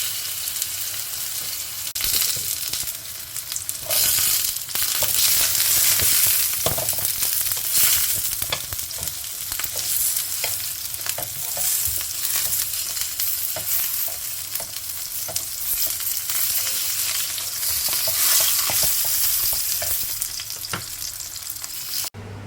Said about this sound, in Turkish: Köftelerle birlikte bunları da yanında kızartacağım.